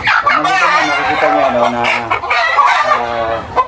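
Chickens clucking and crowing close by at a rearing pen, steady and loud throughout, with someone speaking over the birds.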